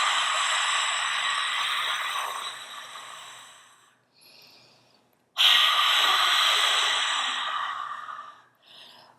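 Two long, forceful breaths pushed out through the back of the throat, a harsh hissing Darth Vader breath done as a relaxation exercise, each lasting about four seconds with a short quiet inhale between, close and loud.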